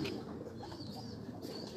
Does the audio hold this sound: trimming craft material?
no